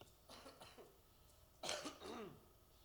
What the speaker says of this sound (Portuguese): me perdoe, vou de vez em quando dar umas tossidas aí